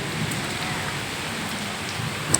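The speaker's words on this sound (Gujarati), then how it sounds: "જોરદાર પવન સાથે વરસાદ આવી રહ્યો છે" Heavy rain driven by strong wind pours outside a room in a Navsari village, a loud, dense, steady roar of water with no talk.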